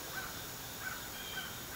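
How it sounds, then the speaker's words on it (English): Faint crow caws off in the distance, three or four brief calls spaced roughly evenly over a steady hiss of ambient noise. "I hear those crows."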